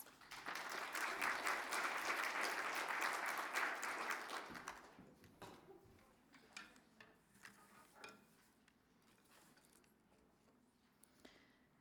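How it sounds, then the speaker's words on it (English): Audience at a menopause support event applauds warmly for a closing speaker, dense clapping for about four seconds, then trailing off into scattered claps and room noise. "Let's give her a warm round of applause."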